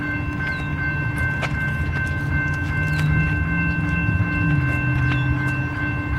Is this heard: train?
yes